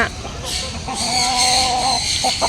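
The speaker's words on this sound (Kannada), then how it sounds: "ಯಾರೆಲ್ಲ ಕೋಳಿ ನೋಡಿಲ್ಲ ಇಲ್ಲಿ ನೋಡಿ, 2 ವೈಟದು 2 ಬ್ಲ್ಯಾಕದು. ಇದು ಒಂದು ಹುಂಜ" Chickens and a rooster, two white and two black birds, clucking nearby in a farm setting in Coorg, a continuous layered cackle and calls, with a person talking over them briefly.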